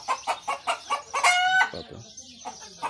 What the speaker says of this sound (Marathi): पक्ष्यांचा आवाज चांगला वाटतो